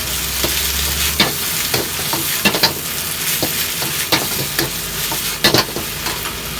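Blanched pork and carrot are stir-fried for a Thai pad poy sian, a loud steady sizzle with frequent quick clacks and scrapes of a spatula against the pan, a low hum cutting off after the first second.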